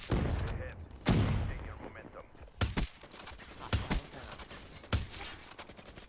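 Gunshots ring out in Call of Duty Black Ops 3, several loud, separate cracks spaced irregularly across a few seconds, with a player talking between them.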